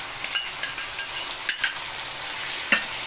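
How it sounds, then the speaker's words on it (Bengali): Yogurt goes into a spice paste already frying in oil, and steady sizzling fills the pan while a utensil scrapes and stirs with a few sharper clinks. "এই সময় আমি এই দইটা এর মধ্যে দিয়ে দিলাম"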